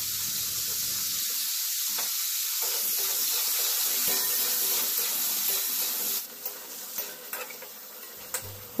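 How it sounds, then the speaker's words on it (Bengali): Cauliflower pieces fry in a pan of hot oil, a steady close sizzle with occasional stirring scrapes that thins out and becomes sparser toward the end. "আর এবার ফুলকপিটাও ভেজে নেব।"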